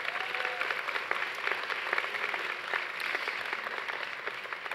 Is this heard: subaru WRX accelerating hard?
no